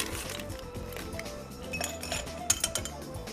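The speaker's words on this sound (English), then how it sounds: "I'm going to add a little bit of ice to my glass as well" Ice cubes clink into a cocktail glass in a few bright, quick knocks, with a sharper glassy tap near the end, set against a busy background of steady kitchen noise.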